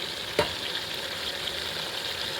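A spicy mint biryani mixture with curd and ghee is stirred in a pot, giving a steady close sizzle with one sharp scrape of the spoon near the start.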